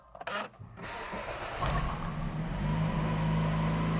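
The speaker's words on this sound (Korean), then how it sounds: "그러면 이제 시동을 걸면서 스타트 퍼포먼스" A 2017 Jeep Renegade 2.4 gasoline compact SUV cranks briefly, catches and settles into a steady, close idle that holds to the end.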